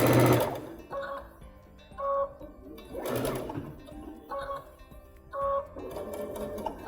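A Baby Lock sewing machine with a chenille foot stitching curving rows of bias-cut chenille strips, running in short close bursts of rapid mechanical whirring separated by brief pauses, with a soft electronic beep between runs.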